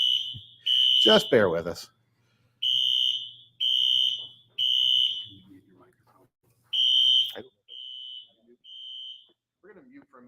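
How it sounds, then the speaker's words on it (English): A fire alarm system sounds during a test, loud electronic tones repeating in regular bursts with gaps, while someone speaks briefly over them. "We're going to mute for a minute just so you don't hurt your ears on the fire alarm."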